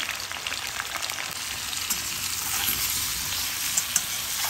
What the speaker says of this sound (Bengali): এবার একটুখানি ভেজে নিচ্ছি